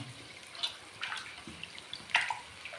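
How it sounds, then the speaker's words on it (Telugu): Raw chicken rinsed in a pot of water in a home kitchen, with soft splashes and drips in a few brief bursts, close and quiet, set against low background noise. "చికెన్ కడగలేదు ఇంకా. కడుగు."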